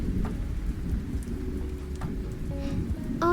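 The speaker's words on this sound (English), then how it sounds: "I love hearing like ambient lo-fi rain noises" Steady ambient rain falls with low rumbling thunder, a lo-fi rain soundscape that stays continuous and moderately loud from start to finish.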